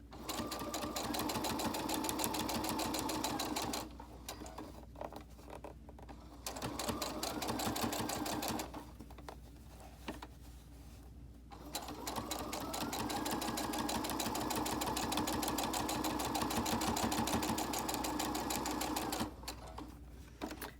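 A sewing machine stitches a thick seam on a fabric mask, running in steady, fast mechanical bursts with a few short stops between them, close and clear.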